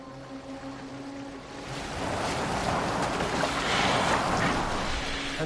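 Boat moving over open water in the Assassin's Creed Valhalla video game, a broad wash of waves and wind that swells louder partway through, with a low tone humming beneath.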